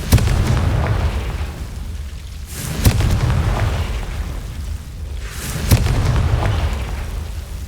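Spell explosions in a Harry Potter video game: three heavy booms about three seconds apart, each with a sharp crack followed by a rumbling roar that fades, loud and close, with no talking.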